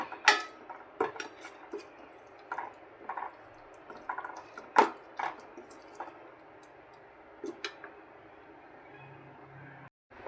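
A spoon scrapes and clinks against a pan as chilli powder, garam masala and turmeric are sautéed for a lima bean curry, giving scattered close taps and soft squishy stirring over a quiet background.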